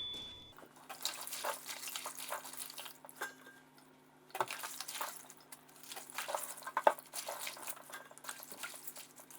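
Fresh spinach leaves are rinsed by hand in water to wash out dust and sand, giving quiet, irregular splashing and sloshing in a basin with soft clinks from the container.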